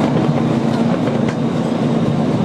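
Passenger train ride on an Australian railway, with a steady loud rumble from inside the carriage and faint rhythmic clickety-clack of wheels over rail joints, no talking.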